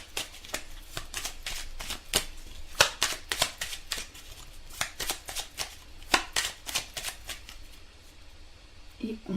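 Tarot cards shuffled and cut by hand during a reading, a steady run of crisp riffling snaps and soft slaps, close and fairly quiet, with no talking.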